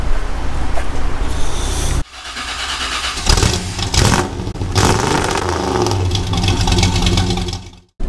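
A car engine starts and revs as the vehicle pulls away, a steady mid-pitched drone that builds and holds close by before cutting off abruptly at the end.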